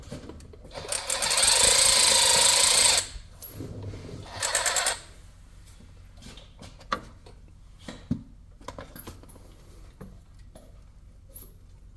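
A power ratchet buzzes against a 10mm oil drain bolt on a Can-Am Maverick X3 XRC Turbo R. A loud burst of about two seconds is followed by a shorter one, then faint scattered clicks and handling noises.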